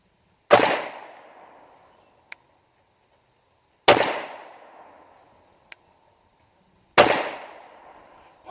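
Three loud, sharp pistol shots from a PSA 5.7 Rock fired at a target outdoors, evenly spaced about three seconds apart, each with a ringing decay and a faint click between shots.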